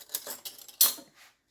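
A spoon works bread dough in a bowl, giving a few short, close scraping clinks in uneven bursts, with one sharper knock near the middle.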